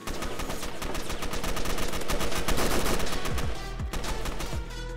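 AK rifle fire in the online survival shooter Fallen Survival crackles in dense, rapid bursts, loud and close at first, then thinning into a few separate shots before a brief lull.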